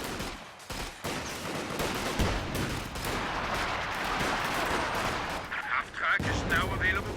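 Bazooka fire and gunfire in the real-time strategy game Company of Heroes 2: dense, continuous crackling shots and heavy booming impacts layered over one another, loud and busy throughout, with a brief burst of a higher ringing effect near the end.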